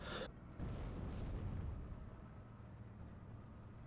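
A bomber strike in a World War II Normandy real-time strategy battle: a sharp blast gives way to a long, rumbling roll of explosions that slowly fades into a low, distant boom and hiss.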